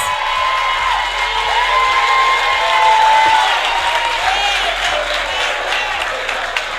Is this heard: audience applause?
yes